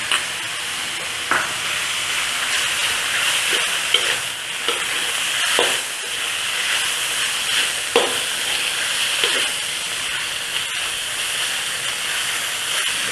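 Chicken and fermented soybean sizzle steadily in a hot pan, a constant loud hiss broken by a few scraping stirs of the spatula, with no talking.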